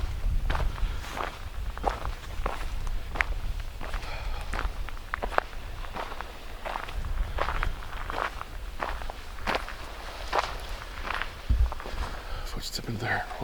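Footsteps walk outdoors near the Cape Forchu lighthouse, a steady series of close, crunching treads at an even pace lasting several seconds, with a loud scuff near the end.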